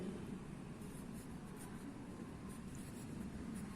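Pencil or pen scratching steadily across paper in a continuous, even stroke, close and moderately quiet, with no talking.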